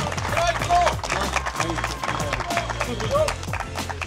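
An outdoor crowd claps for the third-place crew at a boat spinning fishing league season finale, steady applause beneath talking voices and background music.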